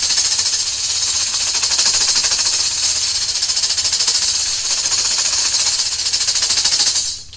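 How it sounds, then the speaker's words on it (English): A tambourine shake roll runs steadily for about seven seconds, a dense continuous shimmer of jingles as the rotating motion blends into a back-and-forth hinge motion without a break, loud and close, then it stops abruptly. "So we start out with the rotation and kind of morph the tambourine sound into the hinge motion without interrupting the roll."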